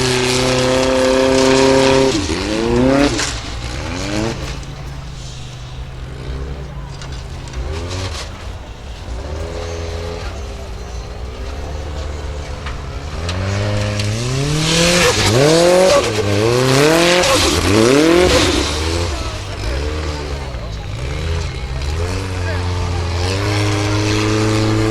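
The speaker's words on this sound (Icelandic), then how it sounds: "Það er algjörlega unaðslegt að heyra í þessu bíl." Formula Offroad race car in Iceland's unlimited class at Hella, its engine revving hard in repeated rising and falling sweeps, loud and close, with a commentator talking over it throughout.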